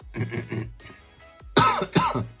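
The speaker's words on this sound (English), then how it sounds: "I'm coughing so much." Several close coughs and throat clearings, a muffled cluster at first, then two loud harsh coughs near the end.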